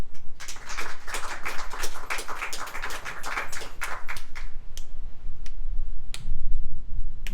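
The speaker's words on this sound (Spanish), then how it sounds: "Vamos a darle un aplauso al Señor." A congregation at a Spanish-language church service claps, starting as a quick burst of sharp, close hand claps and thinning to a few scattered claps, with a quiet low rumble of the room beneath.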